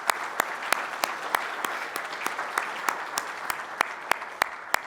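Symposium audience applause, a steady mid-sized round of clapping with a few distinct sharp claps standing out above the wash, continuing evenly throughout.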